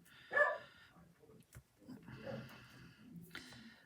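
A dog barks loudly in a short burst at a postman outside, then a few softer, scattered yips and rustling sounds follow at a moderate distance.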